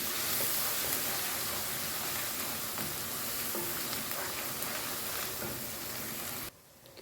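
Chicken pieces fry for karahi with salt, chili and turmeric, a dense, loud, steady sizzle that cuts off sharply near the end.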